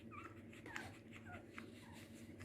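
Newborn Pouchon puppies, a Bichon and toy poodle cross, whimper with faint, thin, high squeaks that come and go over a steady low room hum.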